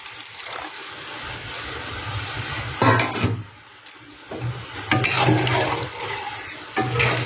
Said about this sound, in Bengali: এখানে এবার আমি জলটা দিয়ে দিই।